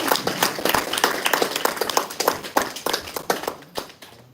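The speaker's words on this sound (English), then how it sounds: "I think our guests deserve a huge round of applause" A short burst of applause from a small group at a leadership talk, brisk overlapping claps that thin out toward the end.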